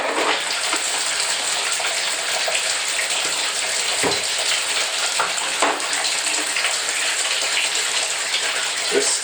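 Water runs steadily in a bathtub while dishes are washed by hand, a continuous splashing gush with occasional soft knocks and clinks up close.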